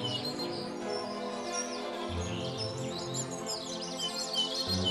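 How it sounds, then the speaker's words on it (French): Garden birds chirp and tweet in the Parc des Capucins, bright overlapping calls sitting above a steady, dense bed of low background sound that fills the whole stretch with no talking. "Le parc des Capucins héberge de nombreuses espèces d'oiseaux."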